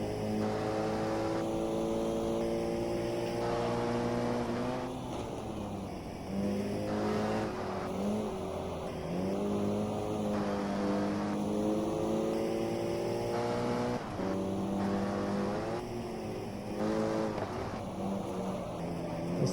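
A race car engine at full throttle in GT Legends, on a free track with cold tyres, climbs through gear after gear in rising howls, each shift dropping the pitch briefly before it winds up again, loud and continuous.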